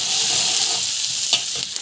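Onions and green chillies sautéing in a pan for a simple morning tiffin, a close, steady sizzle and hiss with a couple of brief stirring scrapes near the end, no talking.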